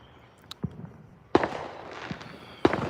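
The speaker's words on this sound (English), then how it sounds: "these mortar shells they're shooting off are not" Fourth of July fireworks mortar shells burst outdoors in a few sharp, loud bangs spaced about a second apart, with softer crackles and pops between them.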